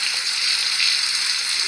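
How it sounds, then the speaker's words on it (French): Shower water runs in the Avatar World video game, a steady, bright hiss of spraying water that stays even and continuous for a couple of seconds, with no voices. "On va juste faire une petite douche."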